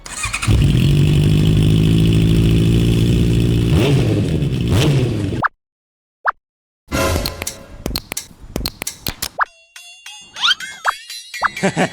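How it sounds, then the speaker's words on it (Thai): A Honda CBR650R motorcycle exhaust rumbles loudly and steadily up close for about five seconds, then cuts out, followed by scattered clanks, jingles and tones. "เดี๋ยวพาไปฟังเสียงท่อสักนิดนึงครับ"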